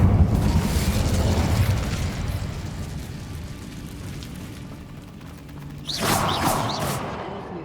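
The Incendio fire spell in Hogwarts Legacy goes off as a loud, rumbling fiery blast that fades, then a fresh whooshing burst near the end.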